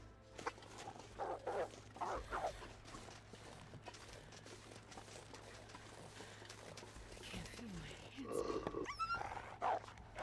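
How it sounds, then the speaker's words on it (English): A wolf in The Long Dark snarls and barks in short bursts, with quieter stretches and footstep-like rustling between the outbursts. "Now that is a real wolf right there"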